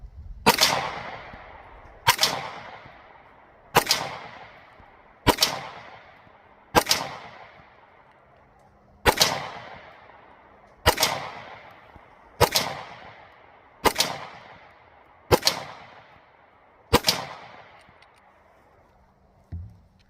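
A Taurus G2C pistol fires eleven loud, sharp shots at a steady pace about one and a half seconds apart, each crack followed by a short echoing decay, with no talking between them.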